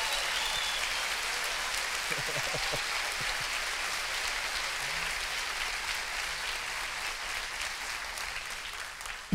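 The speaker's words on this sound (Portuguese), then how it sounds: "Você pode aplaudir esse nome que é sobre todo nome?" Church congregation applauding, a dense, even wash of clapping from a large crowd that continues steadily throughout.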